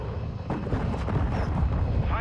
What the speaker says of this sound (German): Feindliche Drohne über uns.